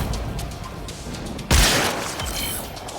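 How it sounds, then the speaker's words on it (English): An explosion in the video game Warframe bursts loudly at once, followed by a rumbling wash of falling debris that fades slowly, with no talk over it. "There should be useful detritus falling from the explosion."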